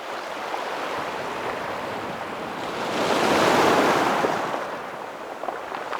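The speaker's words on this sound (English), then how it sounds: "just trying to time it as the water washes up the shore" Ocean swell washes up a rocky shore at sunrise as a steady surf roar that swells into a louder rushing wave midway, then eases back, heard close with wind and no voices.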